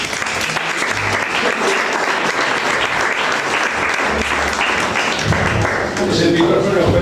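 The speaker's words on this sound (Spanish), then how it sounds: "un aplauso para él" An audience applauds at a talk about school colonies, sustained clapping for several seconds with voices mixed in.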